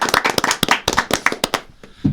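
An audience claps for a band being introduced on a show, a dense burst of close hand claps that thins out toward the end, with no talking.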